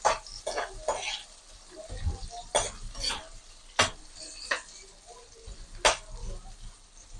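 Garlic sautéed in a pan for a frog dish, with a utensil clattering against the pan in scattered sharp scrapes and knocks over a faint sizzle, close by.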